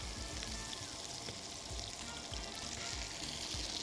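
Butter and sugar sizzle faintly in a pan as they caramelize for apple caramel croissants, a soft, continuous crackle with light stirring and no voices.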